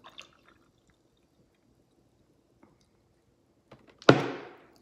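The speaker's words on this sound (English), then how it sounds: "So I'm only pouring a small amount." A small amount of orange juice poured into a glass: after a quiet stretch with a few faint clicks, a short, bright splashing pour bursts in near the end and tapers off.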